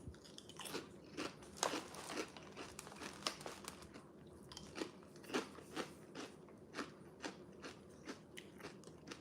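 Someone crunching Wisps Pepper Jack cheese crisps, spicy with chipotle peppers, from a bag: repeated crisp bites and chewing crunches in an irregular rhythm, close and fairly quiet, with occasional bag crinkles.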